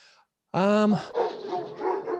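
A dog barks loudly and close up while a neighbor walks past, one sharp harmonic bark followed by rougher yelping and whimpering noises, with a voice talking over the dogs.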